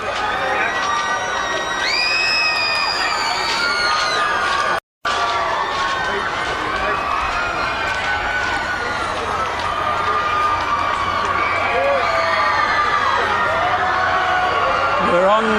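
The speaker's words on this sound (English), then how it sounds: "the crescendo grows from his fans" A crowd of fans outside a courthouse cheers, whoops and shouts as Michael Jackson walks out, high excited voices and whistles rising continuously, loud and close for about fifteen seconds with a brief dropout.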